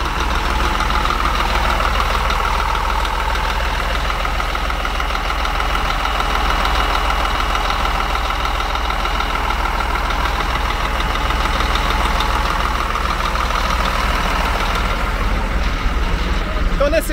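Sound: Scania 400 horsepower bus engine idling

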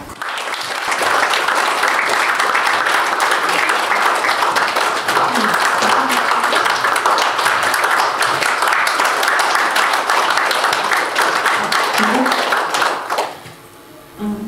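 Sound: audience applause

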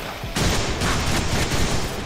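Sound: gunfire in a video game

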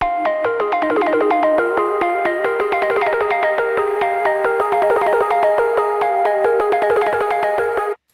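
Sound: synth chord from Minimal Audio Current played on Maschine MK3

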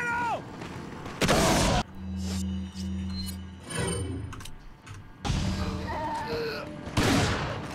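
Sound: shotgun blast in the video game Resident Evil 4

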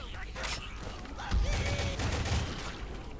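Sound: machine gun fire in video game Left 4 Dead 2

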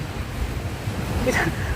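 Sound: sea waves and wind at a quiet beach

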